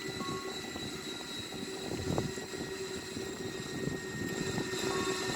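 Airbus A340-313 jet engines in a flight simulator, spooling up with added thrust during taxi: a steady, broad engine roar with a whining tone, holding level and swelling slightly, with no talk.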